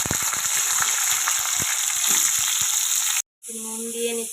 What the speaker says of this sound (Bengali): আলুগুলো দিয়ে দিলাম, আলুগুলো ভাজা হতে থাক।